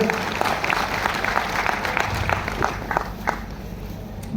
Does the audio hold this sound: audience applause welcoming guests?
yes